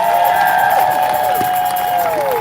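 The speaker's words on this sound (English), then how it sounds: "Give her a big round of applause." A large outdoor crowd at an Amendment 3 rally in Mill Creek Park, Kansas City, roars and cheers in a sustained wall of noise, with whoops and whistle-like calls rising above it.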